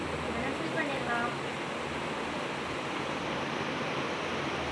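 Water pours from a water pot as a steady, continuous rushing stream, close and fairly loud throughout, with a faint voice briefly underneath.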